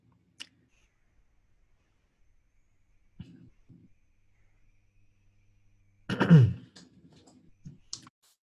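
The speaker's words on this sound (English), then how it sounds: "Click on search." A computer mouse clicking a search button: a single sharp, close click near the start in a quiet room, with later muffled throat and mouth noises and another faint click.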